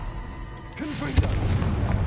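A Confringo blasting spell goes off in Hogwarts Legacy, a deep booming burst like artillery that rolls on, with a short rising whoosh before the loud impact.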